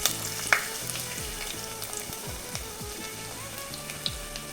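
Ginger and garlic frying in hot oil with a steady crackling sizzle, with occasional louder pops and some stirring sounds throughout.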